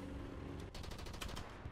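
Rapid machine-gun fire from a vehicle in the War Thunder arcade battle game, a steady stream of quick shots in short bursts over a continuous engine-like drone, with no talking.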